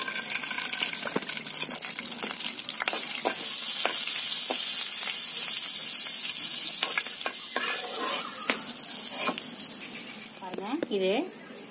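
Raisins fry in a pan for muskmelon (kirni fruit) halwa, giving a steady close sizzle with scattered crackles and a few stirring scrapes that run throughout, fading slightly near the end.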